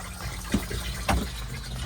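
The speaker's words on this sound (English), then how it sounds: "You'd use the toilet, give it a flush after use" A cassette toilet in a Hobby T-550FS caravan flushes, water gushing and filling in a short steady stream with two small surges, close and fairly quiet.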